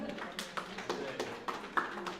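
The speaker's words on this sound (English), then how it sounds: "Give yourself a round of applause for coming out on a Monday night." Sparse, scattered handclaps from a small audience at an evening detox workshop, a handful of uneven sharp claps spread out over a couple of seconds with a voice briefly audible between them.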